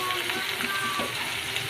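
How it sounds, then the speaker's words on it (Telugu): Vegetables for Chennai sambar sizzle steadily in a pot as they are stirred, a continuous close frying hiss with soft scraping movements. "ముక్కలన్నీ మంచిగా కలుపుకున్నాం."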